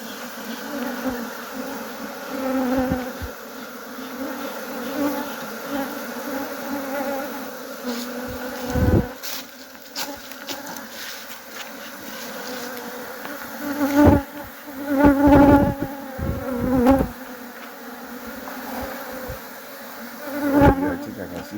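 Honeybees buzz steadily around an opened apiary beehive during an inspection of its comb, a close, continuous drone that swells and dips, with sharper nearby passes and occasional handling knocks.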